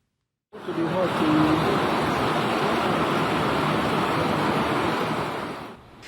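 Floodwater in Nigeria covers a road, recorded on a phone as a loud, unbroken roar of rushing water that starts abruptly and holds steady before tapering at the end.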